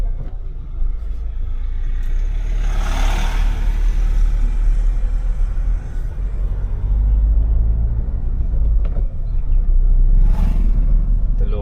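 Police convoy vehicles pass by at a protest against a nuclear power project, a steady loud road rumble with engines swelling as each vehicle goes past, heaviest around the middle and again near the end.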